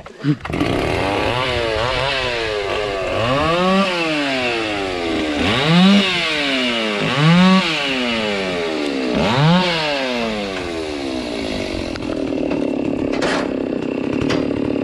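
A loud, close chainsaw revs up and down repeatedly as it bites into acacia logs, then settles into a steady idle.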